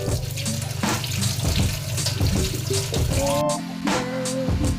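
Running tap water splashes steadily over cut flat beans being rinsed in a sink, a continuous close wash with small clinks and shifts as the beans are handled.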